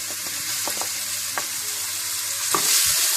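Onion fries in hot oil, a steady, close sizzle with a few sharp pops and stirring clicks scattered through it, growing a little louder near the end, with no one talking.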